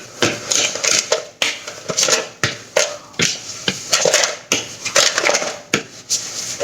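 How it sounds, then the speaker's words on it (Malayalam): Cream and sugar for an Oreo cheesecake being mixed in a bowl, with quick repeated scraping and tapping strokes of a utensil against the bowl in an uneven rhythm, loud and close, with no talking. "ഇനി നന്നായിട്ട് ഒന്നും കൂടെ മിക്സ് ചെയ്തെടുക്കാം."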